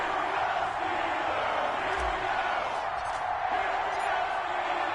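Stadium crowd noise in an EA Sports NFL video game, Indianapolis Colts against Pittsburgh Steelers, a steady broad roar of fans holding at an even level throughout with no talk over it.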